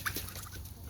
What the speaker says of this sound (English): I think the boy turkeys are fighting.